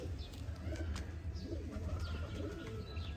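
Pigeons cooing softly in low repeated murmurs, overlapping with faint chirps against a steady background hum.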